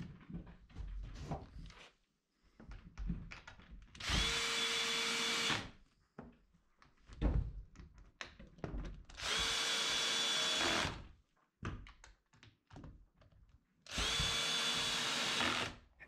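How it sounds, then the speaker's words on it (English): A power drill drives pan head screws through trim on the windows of a 6x8 octagonal elevated wooden box blind, giving three separate whining bursts of about a second and a half each, with quiet handling and clatter between them. "The trim gets pushed up against the outside of the windows and attached using pan head screws."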